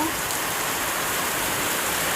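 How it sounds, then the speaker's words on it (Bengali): Dense, steady downpour of heavy rain, a constant loud wash of drops hitting surfaces with no pauses. "এখানেও দেখো বোঝা যাচ্ছে কতটা মুসলধারে বৃষ্টি পড়ছে"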